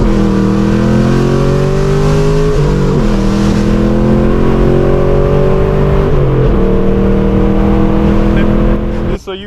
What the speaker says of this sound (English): Just so you guys can get the experience of what is it even like to drive a 5th gen Camaro with long tube headers